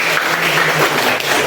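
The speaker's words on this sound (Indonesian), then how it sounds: "Oke, tepuk tangan dong." Applause from a class after a lesson's explanation of network functions, a steady dense patter of many hands filling the short stretch at moderate level with no voices on top.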